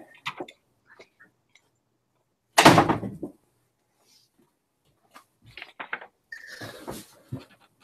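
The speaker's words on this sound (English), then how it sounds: "Let me shut the door real quick." A door is shut in a quiet room, giving one solid thud followed by a few faint clicks and shuffling movements, with scattered small handling noises afterward.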